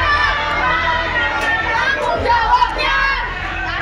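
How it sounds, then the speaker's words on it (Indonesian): A large crowd of vocational school students shouting at a protest in Depok, West Java, a dense and loud wash of many voices yelling together without a break. "Mereka berteriak sambil terus menerobos masuk ke dalam gedung sekolah."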